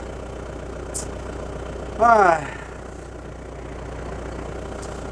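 A SCOUT TB-904C tractor engine idles while it warms up. It holds a steady low hum throughout, broken once by a short exclaimed voice.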